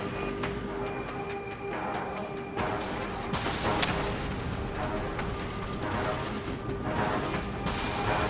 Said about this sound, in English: Firing on enemy missiles.